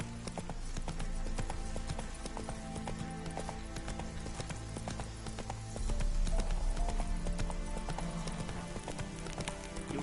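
Hooves of Roach, a horse in a video game, clip-clop in a steady, rapid rhythm close by, with each strike crisp and the pace continuing throughout over a low backdrop of game ambience and music, and no talk.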